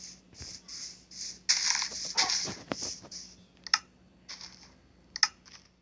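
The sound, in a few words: dog barking in the video game Mastercraft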